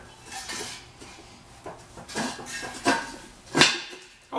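A cast iron Dutch oven found in a storage unit is handled, giving several sharp metallic clanks and knocks of heavy metal, close and moderately loud, spaced irregularly.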